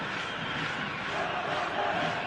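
A football stadium crowd roars as match day builds toward kickoff, a dense, continuous wash of cheering and chanting that stays loud and steady throughout.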